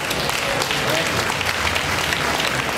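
An audience at a Green Festival talk breaks into sustained applause, a dense continuous wash of clapping from many hands that holds steady for the whole stretch.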